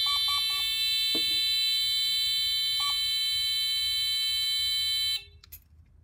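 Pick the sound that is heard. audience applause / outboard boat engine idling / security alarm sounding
security alarm sounding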